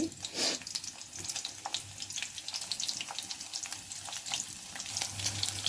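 Cumin, mustard seeds and green chillies crackle and sizzle in hot oil up close, a continuous spitting fry with scattered pops throughout, fairly quiet overall.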